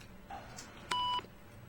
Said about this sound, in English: You can push the button to make it beep.